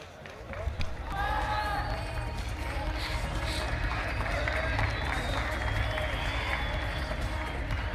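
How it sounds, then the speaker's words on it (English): Applause and crowd noise fill the arena at an AMMA youth championship event, a sustained wash of clapping and cheering that holds steady for several seconds while a commentator talks over it. "Nice to hear the applause"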